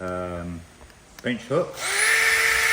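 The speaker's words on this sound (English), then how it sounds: "So I'm just gonna drill these all up," A power drill bores screw holes in timber at a carpentry bench, starting after someone briefly speaks and then whining steadily and loudly up close.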